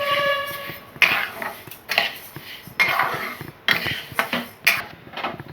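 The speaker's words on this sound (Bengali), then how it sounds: "এখন আমি ডালটা ভেজে নিচ্ছি।" Dry lentils being roasted in a hot wok, 500 grams stirred for a temple-style khichuri: repeated scraping and rattling bursts of grains against metal, close and fairly loud, roughly once per second with brief pauses between strokes.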